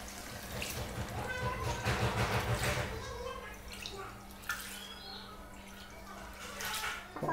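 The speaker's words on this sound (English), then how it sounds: "Add some water." Water splashes and trickles into a pot of chicken curry with potatoes. The pouring is faint and fairly close, with faint background noise throughout.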